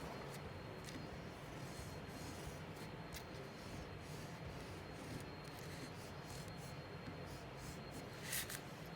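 An oil pastel scratches and rubs over paper while tracing pencil lines to draw an insect, a faint, steady scraping close to the mic against a low background hiss.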